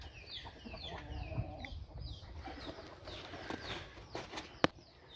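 A game rooster, a minor blue cock, clucks in short bursts on a farm, joined by other fowl calls and a brief flap of wings, with a sharp sound near the end.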